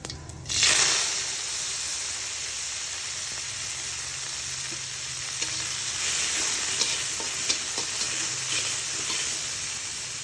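Steady sizzling of cumin frying in hot oil, with occasional scrapes of a spoon stirring the pan; close and continuous, no talking.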